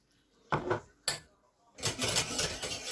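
Two sharp metallic clanks of a small saucepan being set down and moved, followed by a steady rushing sizzle of butter close by.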